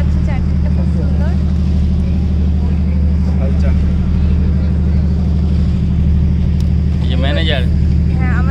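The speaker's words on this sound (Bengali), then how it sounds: "আমরা এখন ক্যাপ্রি আইল্যান্ডে বোটে বসে আছি, বোট ক্রুজ করবো।" A boat cruises off Capri Island with its engine droning loudly and steadily throughout, while people talk over the continuous rumble.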